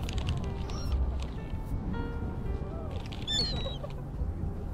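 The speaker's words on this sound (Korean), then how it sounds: "저쪽에 멀리 갈매기들이 있는데요." Seagulls at Eulwangni beach on Yeongjong Island, Incheon, give a few short, high calls from a distance over a steady low rumble of wind and surf.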